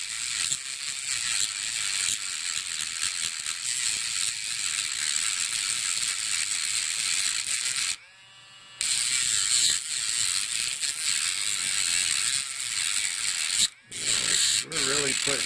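A cordless Dremel 7300 rotary tool spins a big disc wheel with a steady, loud, high whine that cuts out briefly twice before spinning back up.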